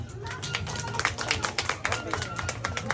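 Scattered clapping from a small group at a Cocomelon birthday celebration, cheering on the winner of a pet vote for dog, quick uneven claps close by with talk over them.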